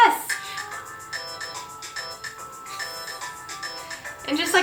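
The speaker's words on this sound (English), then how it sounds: "phone is ringing in the background" A mobile phone ringtone plays a repeating melodic tone pattern in the background, moderately loud and steady throughout, with voices talking over it.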